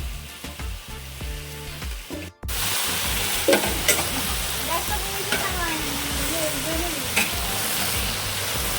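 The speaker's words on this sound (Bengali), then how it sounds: "একদিকে মাছ ভাজা চলছে, আর একদিকে পোস্ত রান্না হচ্ছে।" Rohu fish fries in a large pan in a school mid-day meal kitchen, loud, steady close sizzling with stirring scrapes, heard after a brief cut from another kitchen sound.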